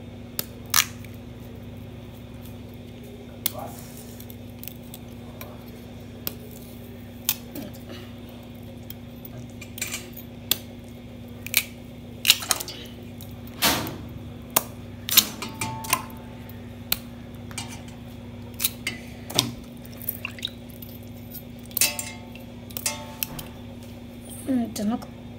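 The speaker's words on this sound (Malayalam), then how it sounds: "നമുക്ക് കപ്പ കട്ട് ചെയ്ത് വെള്ളത്തിലേക്ക് ഇടണം." Tapioca (cassava) being cut into pieces with a knife, giving scattered sharp clicks and taps at an irregular pace, fairly close, with a steady hum and occasional talk in the background.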